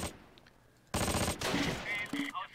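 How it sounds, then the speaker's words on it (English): Machine gun fire from infantry assaulting in the Close Combat wartime strategy game, starting abruptly after a quiet stretch and continuing as a dense, loud burst of rapid shots. "So they're all assaulting with machine guns."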